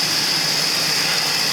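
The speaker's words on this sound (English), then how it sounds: "I'm going to go ahead and disconnect my heater so we can hear this engine run a little better." Idle of a Ford 5.4 Triton engine: a steady, loud, even hum with no pauses or revving over a brief stretch, and no talk.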